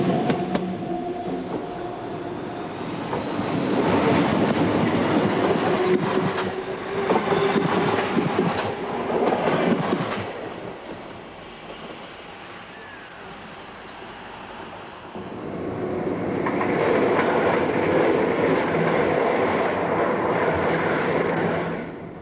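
A train rolls past on railway tracks, a loud broad rumble with clattering that swells, dips briefly in the middle, then surges again close by, with no voices.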